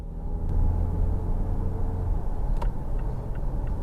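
Mitsubishi Evo X running on E85 while driving, a steady low engine and road rumble heard from inside the car with a few faint clicks over it.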